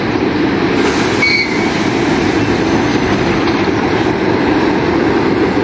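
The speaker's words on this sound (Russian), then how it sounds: "Поезда уходят и приходят." Metro trains arriving and departing at an elevated station gate near Ryazansky Prospekt, a loud continuous rumble of rolling wheels with a brief metallic squeal early on, close by and steady throughout.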